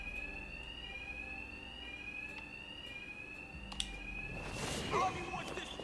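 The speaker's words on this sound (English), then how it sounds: "Two-Face's thugs won't hear me over the alarm." Alarm blaring in Batman Arkham Knight, a continuous electronic fire-alarm tone ringing steadily at moderate level across the scene with a few clicks and a burst of noisier game sound near the end; no talk.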